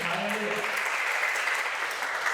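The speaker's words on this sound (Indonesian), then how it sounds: "Tepuk tangan bagi Yesus" A church congregation gives a round of applause for Jesus during a sermon. Dense, even clapping holds steady for a couple of seconds with a voice faintly audible at the start.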